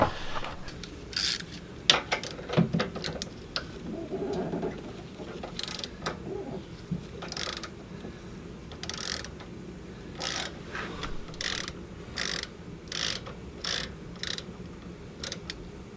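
A 9/16 ratchet loosens the oil drain plug on a Cummins Onan 2500 LP generator, producing a series of short, fairly close metallic ratchet clicks in bursts over a quiet background.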